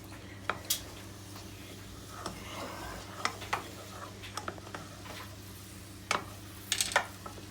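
Onions are slowly stirred in a pan: a quiet run of scattered clicks and scrapes from a utensil over a low, steady kitchen hum.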